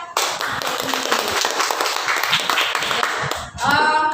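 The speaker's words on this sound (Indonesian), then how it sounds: "tepuk tangan buat" A primary-school class of third graders claps hands together for a pupil in the classroom, a dense, steady patter of many hands lasting several seconds before fading near the end.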